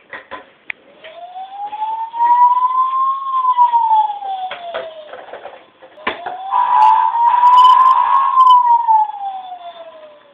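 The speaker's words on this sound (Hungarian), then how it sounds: "Van itt tűzoltó autó." A fire truck siren wails in two long rising and falling sweeps, loud and close, with some clatter and background noise around it.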